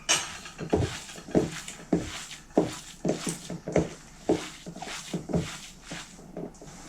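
Soft, irregular squelching and slapping of hands working wet, sticky minced meat patty mixture, repeated at a steady pace close by.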